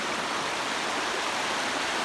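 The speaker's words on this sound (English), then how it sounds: "This is the Lyre River." Shallow Lyre River water rushing steadily in a rain forest, a dense, even broadband wash close to the microphone with no voices over it.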